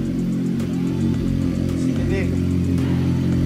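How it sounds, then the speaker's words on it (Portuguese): A motorcycle that was just started after a full service idles to warm up. Its engine gives a steady, close drone that holds unbroken the whole time. "acabou de ligar, deixar a moto esquentando"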